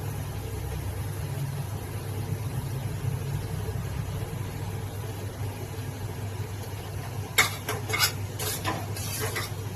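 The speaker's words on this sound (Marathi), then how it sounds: "हा मसाला खूप छान भाजून घ्यायचा आहे।" Masala roasting in a pan for mutton curry, a low steady sizzle with a spoon scraping and clattering against the pan in a short burst near the end.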